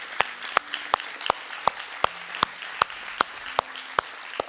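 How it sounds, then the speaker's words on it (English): A church congregation applauds the men standing at a Father's Day service with sparse, spaced claps in a loose, slow rhythm. Quiet hum and room noise fill the background. "I applaud you, man."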